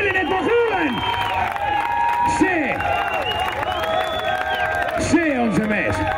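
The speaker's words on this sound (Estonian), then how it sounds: "Aplaus selline, et ma kuulen." An audience at an outdoor car meet claps and cheers, a steady wash of applause with whoops and shouts mixed in, while a voice carries over the crowd.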